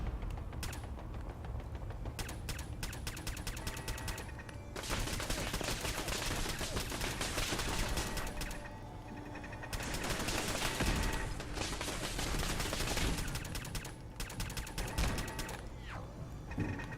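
Repeated bursts of game gunfire while destroying turrets in Fallout 4 with the Sim Settlements mod, dense sustained volleys with short lulls, loud and continuous with mechanical clatter mixed in.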